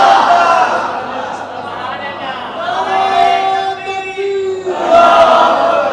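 A crowd at a religious gathering chants a slogan together in loud, sustained unison voices, with a brief dip near the middle before the chant swells again toward the end.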